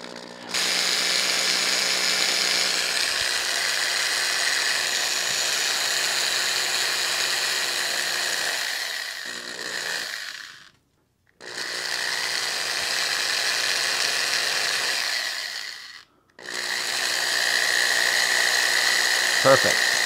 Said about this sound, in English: let's drill through the hand